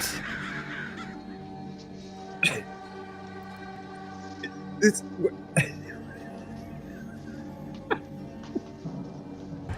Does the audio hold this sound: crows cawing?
yes